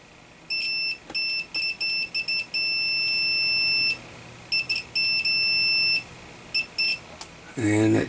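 A multimeter beeps in continuity mode while probes touch a repaired circuit board trace: a steady, high electronic tone that switches on and off in short, irregular pulses with a few longer holds, close and clear over a quiet room.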